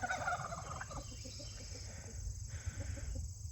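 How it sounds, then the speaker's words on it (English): Young guinea fowl being introduced to a backyard farm flock, calling with repeated short chirps and clucks close by over steady low rumbling background noise. "There's some cute little guineas."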